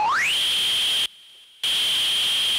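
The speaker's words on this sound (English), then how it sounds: "I will just use another filter and I will modulate this filter's frequency through a white noise like this." A resonant modular synth filter in a patch, its frequency modulated by white noise: a tone sweeps upward, then holds as a bright, steady whistling pitch over hiss, cut by a short silent gap midway.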